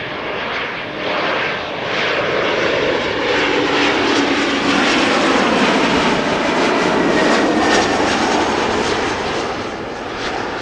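A passenger airplane arriving at Amsterdam Schiphol Airport roars loud and close, its broadband engine noise steady and swelling slightly over about ten seconds with no talk.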